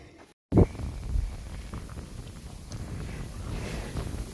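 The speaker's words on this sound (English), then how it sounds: "The wind is beautiful for the temperature, but I keep getting like blown zigzag." Wind gusting over the microphone on the Larapinta Trail, a steady low rumbling buffet that swells and stays up for several seconds after a brief dropout, with no talk.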